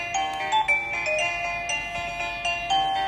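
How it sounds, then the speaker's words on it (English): An LED flashing plug-in doorbell plays an electronic chime melody, a steady run of bright tonal notes repeating with a clear rhythm, close and fairly loud with no voices. "It supports 32 optional ringtones alongside flexible volume control to fit your preference."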